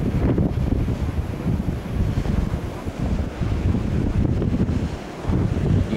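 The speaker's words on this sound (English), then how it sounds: "there is some, as would be expected with any blades turning through the wind" Gamesa G80 wind turbine blades turn through the wind at a large hilltop wind project, a steady broad whooshing roar heavily buffeted by wind against the microphone, loud and continuous with no talking.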